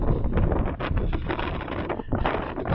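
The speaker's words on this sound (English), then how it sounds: "It's windy." Wind gusts across the microphone in uneven, rushing bursts, a broad roar that swells and briefly dips before surging back.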